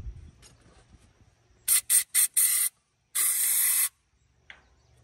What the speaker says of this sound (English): I'm going to give her a little hit of ether.